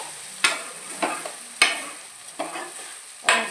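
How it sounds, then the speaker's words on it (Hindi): Okra frying with onions in a pan, stirred at a steady pace: five or six distinct scraping strokes over a low background sizzle, close by and moderately loud, with nobody speaking. "तो यहाँ पे मैंने प्याज भून लिया है और भिंडी डाल दी है मैंने"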